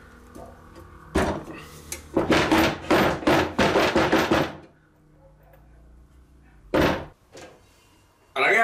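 On a Scheppach MBS 1200 metal band saw, the vise is tapped and tightened against a workpiece, giving a quick run of sharp metallic knocks close by, then a couple of isolated heavier clunks later.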